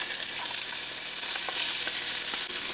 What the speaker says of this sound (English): Now I'm going to add in some chopped onions and chopped pimento peppers.